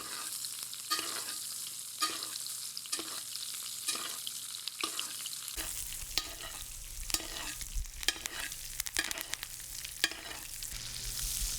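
Steak fries in brown butter in a pan with a continuous crackling sizzle and regular basting or stirring scrapes, getting louder partway through, close and without talk.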